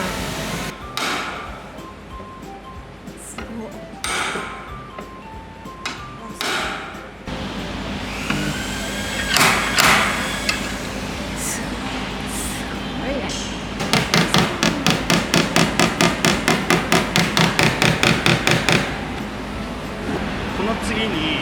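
Hammer blows knock down high spots on a dented car body panel during sheet-metal repair, first scattered single strikes, then a fast steady run of sharp metallic taps at close range, with people talking in between.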